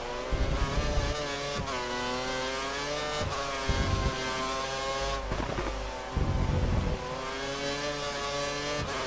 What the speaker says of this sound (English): it looks like the car ahead is trying to create a gap. He's running full revs, maximum power.